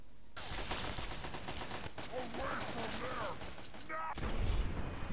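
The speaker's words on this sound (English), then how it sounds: "Grenade for you. Boom!" A grenade goes off in Fallout 3 gameplay, a loud blast and rumbling burst within a dense, continuous stream of gunfire and combat noise, with a sharper boom near the end.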